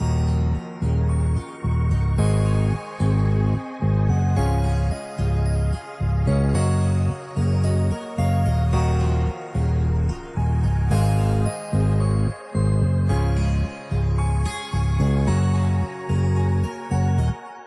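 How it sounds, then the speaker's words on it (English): A looping amapiano synth melody with layered tonal parts and punchy low bass notes, steady and loud, repeating in a bouncy rhythm with short gaps between phrases. "Let's hear all the melody sounds together."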